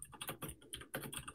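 Rapid bursts of keystrokes on a computer keyboard, typing a file path into a Linux system, clicking close and steady in uneven clusters with short pauses between them.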